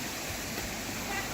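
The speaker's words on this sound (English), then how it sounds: "now we are going to Jibhi waterfall" Jibhi waterfall in Himachal Pradesh, set among forested hills, gives a steady broadband rush of falling water that fills the short stretch evenly at a moderate distance.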